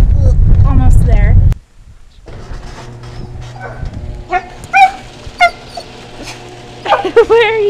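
A dog left in a friend's care whimpers and yips in a car, a loud voice at first, then after a brief drop a run of thin, repeated whines and short yips near the recorder.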